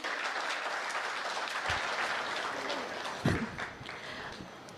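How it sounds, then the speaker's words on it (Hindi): Enthusiastic audience applause at a poetry recitation event, continuous crowd clapping at steady strength throughout with a few sharper claps and faint murmurs underneath. "एक बारी जोरदार तालियां बजाइए"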